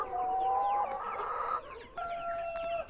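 Chickens on a farm, a mix of native and broiler birds, cluck and call in a close, steady chorus with sustained crowing-like tones and no talking.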